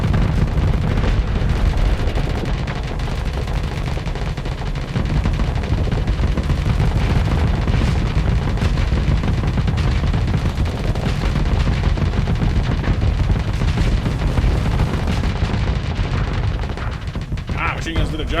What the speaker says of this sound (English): Machine guns did a job that time to stop the missiles.